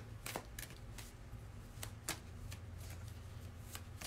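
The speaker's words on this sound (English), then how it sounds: "just shuffling the cards so we can see what we need to know about the crown chakra this week" Tarot cards being shuffled by hand give a few quick, crisp riffling bursts separated by softer rustling, close and fairly quiet.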